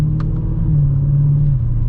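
A 2020 Dodge Challenger Scat Pack Widebody engine pulls with a steady, heavy low rumble under acceleration, loud and close from inside the car, the drone holding then shifting slightly in pitch.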